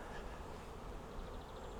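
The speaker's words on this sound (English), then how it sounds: "The bees are definitely in them." Honey bees humming around two hives, a soft steady buzz heard from a short distance with a faint outdoor background and no voices.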